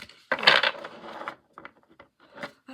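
A deck of playing cards is shuffled up close, a quick rustling burst of riffling cards followed by a few softer flicks and taps, quiet and intimate.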